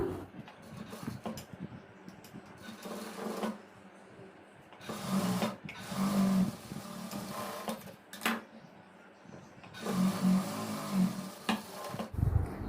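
A sewing machine stitches silk blouse pieces together, running in bursts of rapid mechanical whirring separated by brief pauses, close and fairly steady, with faint handling noises between runs.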